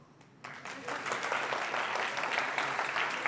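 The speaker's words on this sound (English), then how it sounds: "Give yourself a round of applause." Conference audience applause at a SAP NOW event in Slovenia, a dense patter of clapping that starts abruptly after a quiet moment and stays loud and steady to the end.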